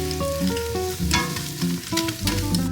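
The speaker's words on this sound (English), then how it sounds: "Now while the onion is frying," Onion fries in a pan on a home kitchen stove, giving a continuous, close sizzle with occasional stirring, mixed with background music.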